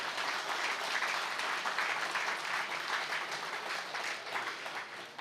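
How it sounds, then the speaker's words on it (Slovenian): Steady applause from an audience at a municipal ceremony in Pomurje, honouring a guest, with dense sustained clapping filling the whole stretch at an even level and no break. "Zato za ta dosežek en aplavz tudi njemu"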